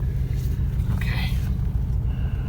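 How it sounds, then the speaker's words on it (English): A 1975 Pontiac Grand Prix with a 455 V8 idles steadily, a dense low rumble close by running evenly throughout, with a brief higher whine over it partway through. "It's idling nice."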